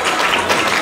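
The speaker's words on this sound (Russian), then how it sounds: "аплодисменты." Audience applause at a children's choreography dance competition in Minsk, a dense, steady wash of many hands clapping without break, fairly loud and unaccompanied by speech.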